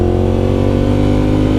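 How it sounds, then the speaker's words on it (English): A 2009 Ducati Monster 1100 with an open clutch basket runs steadily close by, its V-twin engine giving a loud, even drone with a constant mechanical clatter and no voices. "It's really cool having that open clutch basket, because you can actually hear when you have the clutch engaged."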